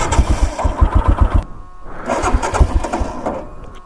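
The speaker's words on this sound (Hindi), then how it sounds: "पहले कोल्ड स्टार्ट कर लेते हैं बाइक को।" A motorcycle's cold start: rapid, loud engine firing pulses for over a second, a brief drop, then an uneven rumbling as it tries to keep running, close by with no talk.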